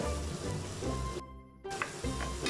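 Mexican rice sizzles in a hot pan as it is stirred, a steady close frying hiss with a short drop-out in the middle before the crackle resumes.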